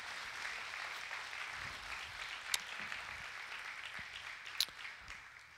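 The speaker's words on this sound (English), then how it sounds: "give the Lord a hand clap offering of praise" A church congregation gives a hand clap offering of praise at a debt-free celebration service, a faint, distant sustained wash of many hands clapping, with a couple of sharper single claps standing out.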